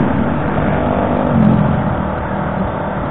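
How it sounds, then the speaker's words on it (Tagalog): Motorbikes pass on the Marilaque mountain road with loud engine roar that swells in the middle and then fades, a steady vehicle drone carrying through the whole stretch. "Malakas tong motor nila, no?"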